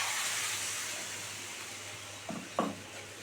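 Mixer rinse water poured into a pan of Vetki fish bone chachchari with potatoes, giving a steady hiss and sizzle throughout, then two short louder bursts of bubbling and splashing near the end.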